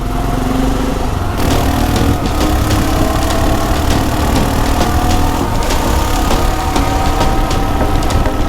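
Hero Xpulse and BMW GS motorcycles idle together, a steady continuous engine rumble with a loud, even drone and faint ticking, no voices over it.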